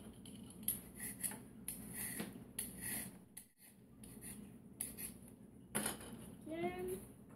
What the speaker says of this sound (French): je vais peler la carotte à l'aide de l'éplucheur